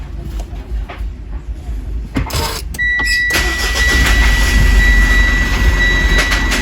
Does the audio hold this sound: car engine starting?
yes